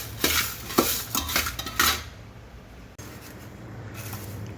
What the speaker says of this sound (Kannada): ಈ ಥರ ಸ್ವಲ್ಪ ಹಾಕ್ಕೊಂಡು ಒಣಮೆಣ್ಸಿನ್ಕಾಯಿನ ಹುರ್ಕೋಬೇಕು